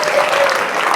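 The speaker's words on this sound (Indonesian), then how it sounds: "tepuk tangan Pak." An audience applauds at an Indonesian organizational talk on developing a local branch. The clapping is steady, dense and fairly loud, with a faint murmur of voices mixed in throughout.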